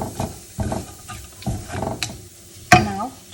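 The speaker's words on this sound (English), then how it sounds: "I'm going to saute it some more" Mango being sautéed with a little tamarind in a pan, heard as soft sizzling under repeated scraping stirs of a spoon, with a sharper clack near the end.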